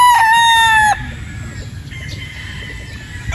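A pure Boston Roundhead rooster gives one loud, close crow lasting about a second, followed by softer clucking and background farmyard noise.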